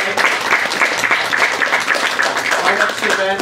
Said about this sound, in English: Let's give another round of applause to these poets for the beautiful reading tonight.